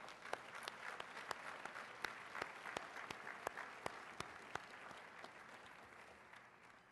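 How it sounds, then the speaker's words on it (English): A luncheon audience claps for award-winning mayors, a soft, fairly distant round of applause with a few sharp individual claps standing out, tapering off at the end. "Please join me in a round of applause for these mayors and their fine programs"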